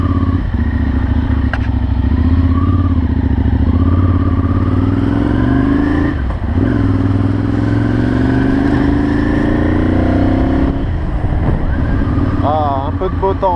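Ducati Monster 796 motorcycle fitted with a Termignoni exhaust rides off, its loud engine rising and falling through revs and gear changes while a rider talks over it.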